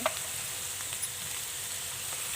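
Onions, chicken, cumin and chilies fry in a pan for vegetable fried rice, giving a steady soft sizzle with a few light stirring clicks, close but fairly quiet and without talk.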